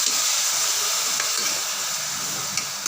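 Green chilli mutton gravy sautéing in a pan gives off a continuous bright sizzle and hiss, close and fairly loud, easing slightly toward the end with a couple of faint clinks.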